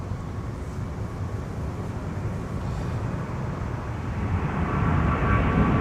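A Delta Airbus A350-900 departs from Minneapolis–St. Paul Airport for Seoul, its broad, low jet roar rumbling steadily at a distance and slowly swelling louder.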